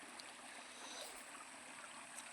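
Steady broadband rush of the Dhur Dhur waterfall near Thakurmunda, a continuous even wash of falling water heard fairly close with no voices.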